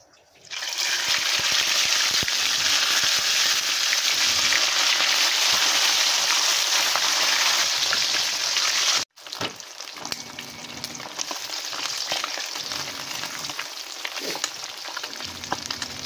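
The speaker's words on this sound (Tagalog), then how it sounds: "Mga papi, naprito na natin yung ating isda. Ito na mga papi ang ating piniritong isda." Threadfin bream (bisugo) frying in hot oil, a loud steady sizzle with wet crackling filling the pan, briefly cutting out midway before resuming slightly quieter.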